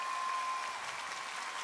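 A concert audience at a 2003 live show applauds, a steady, distant wash of clapping that stays even throughout the short moment.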